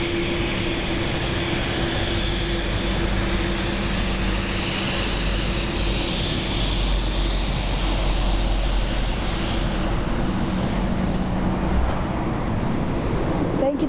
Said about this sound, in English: Beautiful Air Dolomiti right now headed to us. Embraer E190 LR from Katowice.